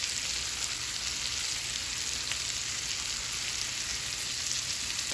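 Mushrooms fry in a pan for veal marsala, giving a steady, even sizzle that runs continuously at moderate loudness with no talking.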